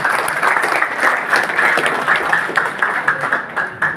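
An audience at a national community conference and honour ceremony applauds steadily, dense clapping filling the hall from start to finish without any talk over it.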